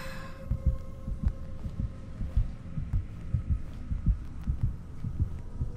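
A heartbeat in a Roblox escape game throbs steadily, with low, regular double thumps under a constant hum and faint tonal drone, loud and close.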